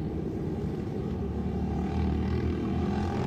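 Royal Enfield INT 650 motorcycles, big heavy bikes, race on a flat track, their engines a steady loud drone that swells slightly toward the end with no talk over it.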